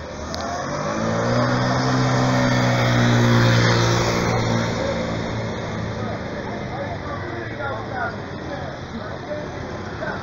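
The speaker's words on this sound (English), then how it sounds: "A lot of traffic coming by from the north up to downtown." Road traffic flowing past a busy junction in Venlo, cars rolling by close with one louder vehicle swelling and fading early on, a steady broadband rush throughout, and a voice speaking over it.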